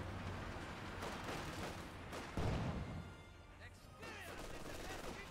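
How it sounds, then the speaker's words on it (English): Artillery bombardment in Company of Heroes 2: dense overlapping blasts and rumbling booms with a heavier impact near the middle, mixed with scattered gunfire under continuous battle noise. "Pekkawi is in a good position to bombard the MG42, and here we go."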